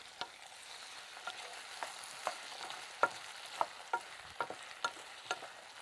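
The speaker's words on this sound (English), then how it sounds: "we can add the diced swede and the potato, and we can cook and stir for about 5 minutes" Diced swede, potato and golden onions cooking in a pan, a steady soft frying hiss broken by a string of sharp spoon-against-pan scrapes and knocks, close and moderately loud, no voices.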